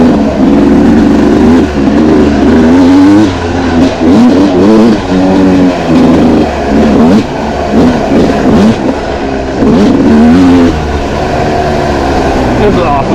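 A Yamaha YZ dirt bike engine, a YZ125 or 1999 YZ250, runs loud and close with a steady, rough two-stroke drone that rises and falls in repeated revs for the whole stretch.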